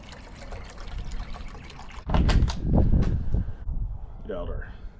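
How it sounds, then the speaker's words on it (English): Sixteen ounces of water poured into a mug outdoors for a backcountry mocha, a sudden splashing trickle that starts partway through and continues steadily, with a voice murmuring underneath. "What you're going to start out with is 16 ounces of water."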